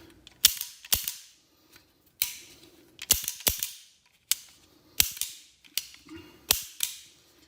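Sharp metallic clicks ring out from a Norwegian M1893 Nagant revolver as its cylinder mechanism is worked, a dozen or so crisp, close snaps arriving in irregular pairs and singles with no talking.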